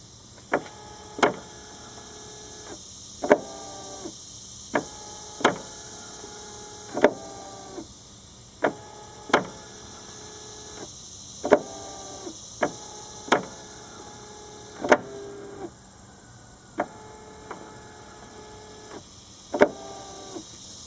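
A Lincoln Town Car windshield wiper motor with a freshly cleaned and lubricated linkage runs through about a dozen short cycles. Each is a steady electric whir ending in a sharp click, repeated at a fairly even rhythm over a faint background hum.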